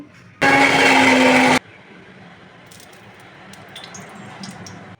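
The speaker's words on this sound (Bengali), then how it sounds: "আর শুকনো লঙ্কা গরম মশলা লবঙ্গ দারচিনি আর এলাচ একসঙ্গে পেস্ট করে নেব" A blender roars loudly for about a second as it grinds dried chili, garam masala, cloves, cinnamon and cardamom into a paste, then cuts off, leaving quiet kitchen background with faint clicks.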